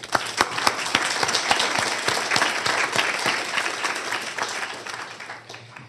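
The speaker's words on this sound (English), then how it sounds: "Please give all of our nominees another round of applause." Audience applause breaks out for award nominees at a Cobb County Board of Commissioners meeting, a steady round of many clapping hands that holds for several seconds before tapering off, with no talk over it.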